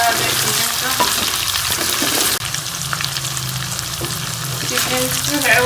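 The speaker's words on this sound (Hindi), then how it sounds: "अभी मैं 1 से 2 मिनट और इसे जो है वो फ्राई कर लूँगी अच्छे से" Chicken sizzles and fries steadily in a karahi, a continuous loud crackle with stirring scrapes throughout and a brief dip midway.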